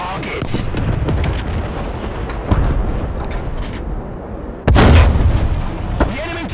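Rocket explosions in War Thunder tank combat with an M10 GMC: steady rumbling battle noise punctuated by a sharp blast midway and a much louder, heavier impact near the end, with voices speaking over it.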